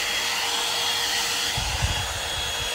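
A hot air brush blow dryer straightens hair with a steady, loud, close whooshing hum, its airflow and motor running continuously, with faint low rustling of brushing near the end.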